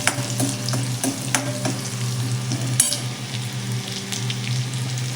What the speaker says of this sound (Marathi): आता हा लसूण आपण छान असा तेलामध्ये फ्राय करून घेऊयात